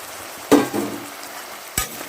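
Peas and pre-fried prawns are stirred through a mixed-vegetable fry in a pan, with a soft background sizzle broken by two sharp spatula scrapes.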